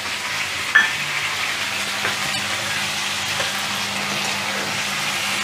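Tomatoes and potatoes fry in a large wok over a high gas flame, giving a steady, loud, continuous sizzle with one small clink early on and no voices.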